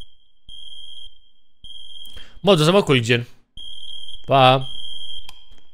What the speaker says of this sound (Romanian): Cred că e alarma de foc, deși nu avem nicăieri alarma de foc.